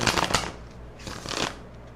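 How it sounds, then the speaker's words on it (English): A deck of tarot cards is shuffled up close before a reading, in two brisk riffling bursts with a short pause between them and no talking. "Let me go ahead and pull a card for you."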